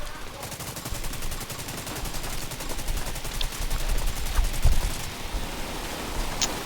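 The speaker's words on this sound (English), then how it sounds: "That's a lot of bullets." Heavy sustained machine-gun fire in a video game, a rapid rhythmic stream of shots over a hissing noise bed with a few sharper impacts, close and loud.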